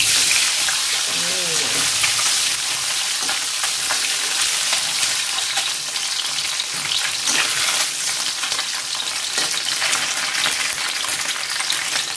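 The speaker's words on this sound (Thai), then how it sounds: "ตั้งกระทะน้ำมันให้ร้อนเสร็จแล้วเราใส่ลูกชิ้นเลยค่ะ" Fish balls fry in hot oil in a pan, giving a steady, loud sizzle and crackle that runs through the whole stretch, with a few light stirring knocks and no clear talk.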